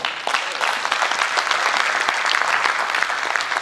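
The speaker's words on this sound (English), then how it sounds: "Let's give her another round of applause." An audience at a conference session gives loud, sustained applause, dense clapping from many hands filling the room, close and continuous without talk.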